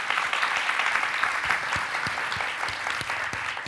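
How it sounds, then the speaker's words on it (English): A symposium audience applauds together, a sustained even patter of many hands clapping with a few sharper nearby claps, no speech over it. "So give yourselves a round of applause."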